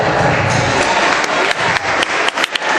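Audience applause at a village carnival costume parade, a steady wash of many hands clapping that thins toward the end, with a few sharper individual claps standing out.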